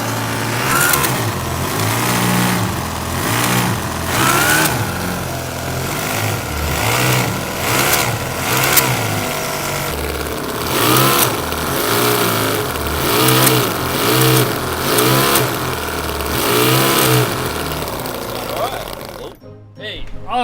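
Small RC winch vehicle engine running and revving, a steady mid-pitched drone rising and falling in repeated throttle bursts, with people talking and cheering over it before it cuts out near the end.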